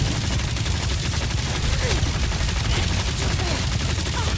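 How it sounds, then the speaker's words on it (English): Continuous loud gunfire from a player shooting at a large hostile robot in the Guardians of the Galaxy action game, dense rapid bursts with a steady low-end rumble filling the whole stretch, no pause. "Feels like I've been shooting that big bot for hours!"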